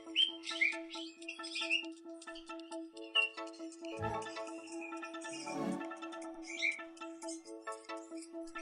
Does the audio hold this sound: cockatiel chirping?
yes